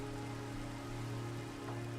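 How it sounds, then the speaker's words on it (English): Rain falling in the Minecraft video game makes a steady, even hiss of drops on surfaces, quiet and unbroken, over a faint constant low hum. "it's raining"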